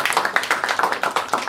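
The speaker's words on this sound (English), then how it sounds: "So round of applause for everybody." A small audience claps at a student club presidential debate, a short burst of distinct, fairly close handclaps in an uneven rhythm, loud and without talk.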